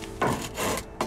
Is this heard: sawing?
yes